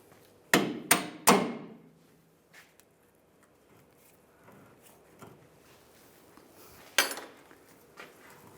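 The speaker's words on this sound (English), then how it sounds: "If you have to, you can hammer it out." A hammer strikes a bolt on a 2007-2013 Chevrolet Silverado 1500 leaf spring, three sharp metallic blows in quick succession, then a softer knock and one more loud hit after quiet clinks.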